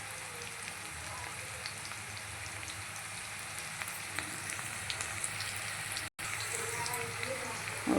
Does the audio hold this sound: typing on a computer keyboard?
no